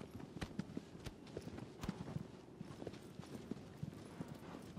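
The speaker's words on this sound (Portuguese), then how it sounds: "É Agro o nome dessa égua aqui" A mare named Agro galloping in the Shadow of the Colossus remake on PS4, a steady run of rapid, soft hoof clip-clops, fairly quiet and close, with no talk over it.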